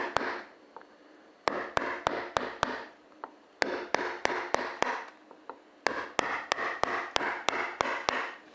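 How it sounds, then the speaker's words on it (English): A chisel is struck repeatedly into wood in steady runs of sharp, close taps, with brief pauses between each series of blows. "Love this chisel."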